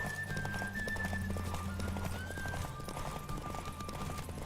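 Hooves pound at a gallop under a horse in Witcher 3: Wild Hunt, a rapid, steady clip-clop close up with a sustained musical tone running over it.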